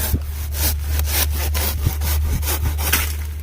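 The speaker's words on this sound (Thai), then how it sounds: "เหมาะสมนะครับก็คือเลื่อยนะครับผม" Steady back-and-forth rasping of a hand saw cutting through fibrous salak palm stems, close and loud, in an even rhythm of strokes.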